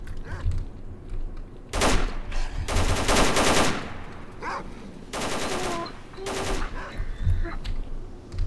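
Bursts of automatic gunfire from armed people in S.T.A.L.K.E.R. Call of Pripyat, several loud volleys in irregular clusters over about eight seconds with rumbling background between them.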